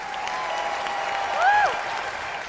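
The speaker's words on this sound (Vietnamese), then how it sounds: "bây giờ chúng ta một lần nữa dành một tràng pháo tay cho cả ba đội đi ạ" Studio audience at a televised music competition show applauding three teams, a continuous bed of crowd clapping with a brief swell in the middle and a faint tonal electronic sound over it.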